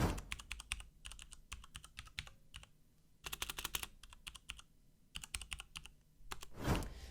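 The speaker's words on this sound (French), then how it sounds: "on se retrouve pour tout simplement le test in-game du clavier" Rapid typing on a mechanical keyboard during an in-game test, bursts of clicky keystrokes with short pauses between runs, close and clear with no speech.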